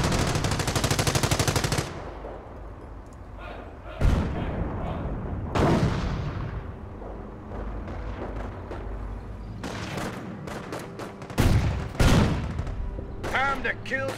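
Rifle and machine-gun fire from the World War II strategy game Company of Heroes, with rapid bursts and repeated sharp shots over a continuous battle din of distant explosions.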